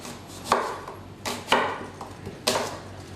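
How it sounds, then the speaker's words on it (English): A knife cuts apples into chunks, a few separate dull chops spaced about a second apart, near and fairly quiet, with no talking. "we are going to cut them up in chunks like this"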